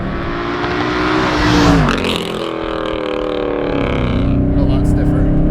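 Exhaust of a 2009 Mercedes C63 P30 with factory track suspension and a cat delete drones loudly and steadily, swelling briefly as it revs, under a person talking over it.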